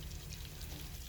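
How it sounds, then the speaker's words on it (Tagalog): Cornstarch dissolved in water pours into simmering beef gravy in a home kitchen, a soft, steady liquid stream with a faint trickling splash, close and quiet, with no talking. "ilagay natin yung 2 tablespoon of cornstarch na tinunaw ko sa 1 cup na tubig."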